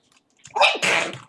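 A single close sneeze during a council meeting: a quick sharp intake followed by an explosive, hissing burst, in an otherwise quiet room.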